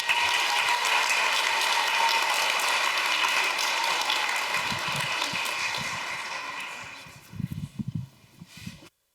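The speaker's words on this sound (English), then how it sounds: "I just would like to give another round of applause for our soloist." An audience at an elementary school spring band and choir concert applauds a soloist with dense, sustained clapping that thins out near the end into a few scattered claps and thumps.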